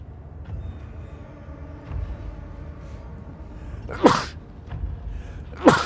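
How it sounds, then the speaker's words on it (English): Two sharp sneezes, the second a couple of seconds after the first, over a low rumbling background hum, in the horror game Amnesia: The Dark Descent. "Oh god, he heard me sneeze."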